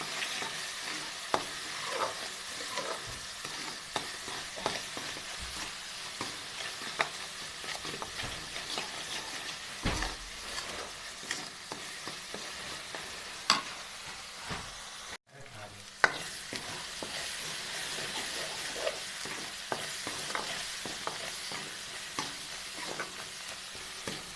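Turmeric and garlic masala fries for gravy in a home kitchen with a steady close sizzle, broken by stirring scrapes and clinks throughout.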